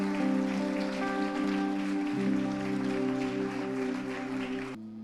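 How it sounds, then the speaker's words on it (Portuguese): Church congregation applauding, a steady wash of clapping that lasts several seconds with sustained tones underneath, then stops abruptly. "Uma salva de palmas ao Senhor pela vida dele."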